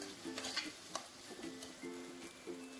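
Rice being stirred with ghee in a cooking pot for chicken biryani, soft scraping strokes repeating at a steady rhythm over a faint sizzle, quiet and close with no talk.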